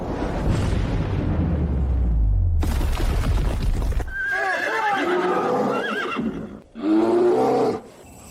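Horses neigh and whinny loudly as brown bears attack them amid soldiers being slaughtered, with crashing, rumbling impact noise first, then several shrill, wavering whinnies separated by brief pauses.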